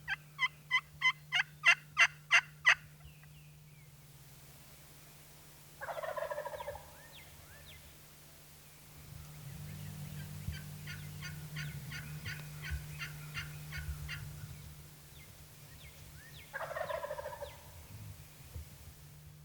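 A wild turkey gobbles at dawn in bursts of rapid, rattling notes, with several separate gobbling calls spread out and heard from a moderate distance over a low steady hum.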